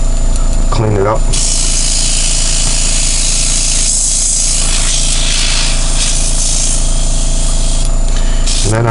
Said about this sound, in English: just fire it through the airbrush to clean it